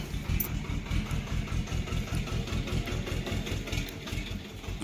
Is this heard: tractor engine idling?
yes